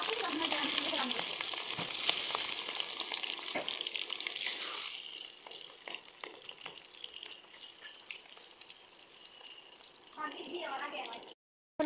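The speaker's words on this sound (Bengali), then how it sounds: "তেলটা গরম হয়ে গেছে, এখন এক এক করে মাছ দিয়ে দেবো।" Pabda fish frying in hot oil on a home stove, a steady hiss and crackle running throughout, loudest at the start and easing slightly later, with some water-like splashing mixed in.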